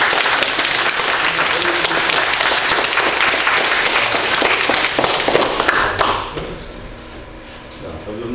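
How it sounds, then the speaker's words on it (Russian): A thunderous ovation fills a hall during an exam event, dense loud continuous clapping that holds steady and then drops away abruptly, leaving quieter room sound. "Под бурные овации."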